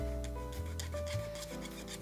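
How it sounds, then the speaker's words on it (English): Someone is sanding a plastic Gunpla model kit, a Master Grade Heavyarms, producing a soft, continuous rasping rub with short repeated strokes beneath steady background music. "I am currently sanding my Gunpla."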